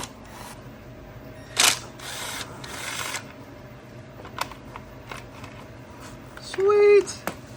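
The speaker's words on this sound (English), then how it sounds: "Let's get these couple bolts off right here. They look like some 8mm." Two 8mm bolts come off the sprocket guard of a Honda CRF110 mini bike, with ratcheting clicks, metallic ticks and a short whirring tool burst against a quiet room, a voice speaking briefly.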